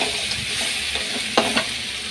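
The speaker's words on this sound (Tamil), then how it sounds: "இதை கொஞ்சம் நல்லா வதக்கிட்டு கொஞ்சம் நண்டு வேக பண்ணிடலாம்" Crab pieces sauté in a pan with a steady, close frying hiss, punctuated by a couple of sharp stirring scrapes partway through.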